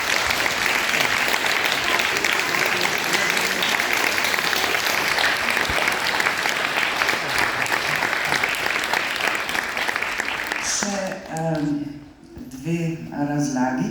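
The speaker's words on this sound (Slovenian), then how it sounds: "da si zaslužijo en aplavz." Audience at a charity concert applauding, a dense sustained clapping that fills most of the clip, then fades out as a voice begins speaking near the end.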